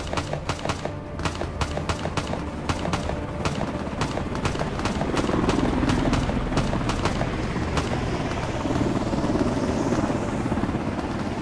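Rapid, loud thudding of helicopter rotor blades chops steadily, joined by a growing engine whine as it stays close.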